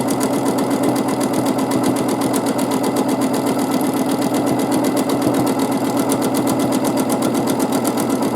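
A sewing machine runs steadily while free motion quilting a meandering ribbon pattern, its needle hammering in a fast, even mechanical rhythm, loud and close with no talking.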